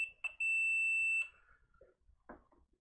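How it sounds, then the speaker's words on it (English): A multimeter's continuity test gives a single steady high-pitched beep for under a second, clean and close, while checking a turntable for a short, followed by faint clicks and handling noises in a quiet room. "if the meter beeps, we have a short"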